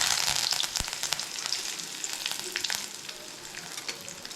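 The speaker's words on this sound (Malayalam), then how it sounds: "നമുക്കിതിലേക്ക് കറിവേപ്പിൻ്റെ ഇട്ട് കൊടുക്കാം." Curry leaves hit hot coconut oil with fenugreek seeds, bursting into a loud, crackling sizzle with sharp pops that gradually softens into steady frying.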